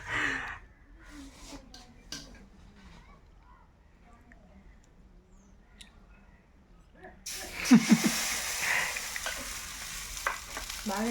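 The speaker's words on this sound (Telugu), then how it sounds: "ఈరోజు ఆమ్లెట్ అయితే వేస్తున్నా నేను" An omelette of eggs from a native hen frying on a brand-new dosa pan. After a spell of quiet talk, a sudden loud, hissing sizzle starts as the egg hits the hot pan and keeps crackling while someone talks.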